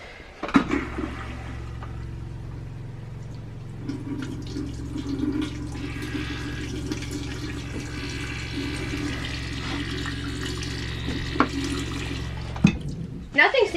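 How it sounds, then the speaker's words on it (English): Water drains steadily out of an RV water tank in a continuous gush and trickle, with handling clunks near the start and end and some voice. "now I'm just running the water out of the tank."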